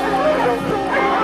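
Hunting dogs barking excitedly at a cornered jaguar on a narrow rocky ledge: a loud, close flurry of overlapping barks and yips, with people's voices mixed in.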